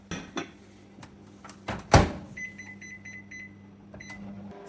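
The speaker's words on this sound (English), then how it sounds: "I'm going to cook this red radish in the microwave" A microwave oven cooking red radish hums steadily at low pitch after a sharp click of the door or a button, with a few faint electronic beeps over the running drone, close and without talk.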